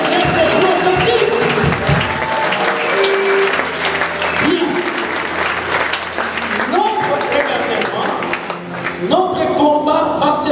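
A congregation claps and cheers loudly and continuously at a prayer marathon, a dense wash of applause with voices and music-like tones rising over it throughout.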